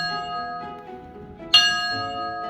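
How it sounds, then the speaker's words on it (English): A real train bell at a railroad museum in Sayre rings with a loud, sharp clang midway through, its bright metallic tone ringing on and sustaining after the strike, preceded by a softer ringing tail. "actually ring a real train bell."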